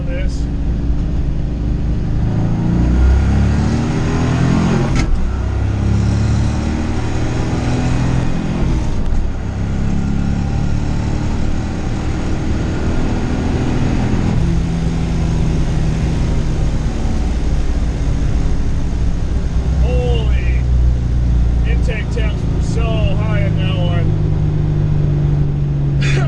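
A Foxbody car with a 408 Clevor engine swap drives hard on a race track at a track day, its loud engine roaring steadily throughout with shifting pitch, while a voice talks over it.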